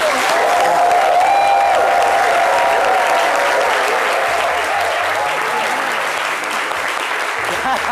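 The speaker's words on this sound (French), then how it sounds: "Les applaudissements sont bien trop faibles." Dense, sustained audience applause fills a storytelling event, loud and continuous from a large crowd, with a faint tone and murmurs underneath.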